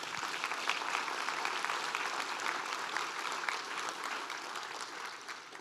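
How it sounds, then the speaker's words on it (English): A seated audience at a civic unveiling event in Fort Worth claps steadily in a sustained round of applause, dense and even throughout. "Let's give them one final round of applause."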